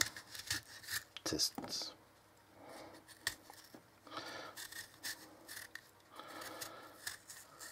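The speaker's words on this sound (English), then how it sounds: "Now we have to peel an apple just to see the grind of the knife" A Sanrenmu 7010 folding knife peeling an apple, with a run of quiet, uneven scraping and slicing strokes, a few sharper rasps, and a voice speaking softly in places.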